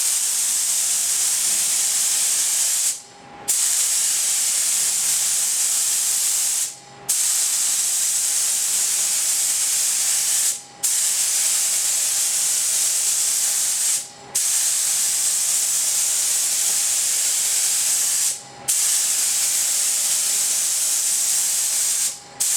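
A spray gun applies a light clear coat to a pinball playfield, a loud steady hiss running in long passes of a few seconds each, broken by brief pauses at regular intervals.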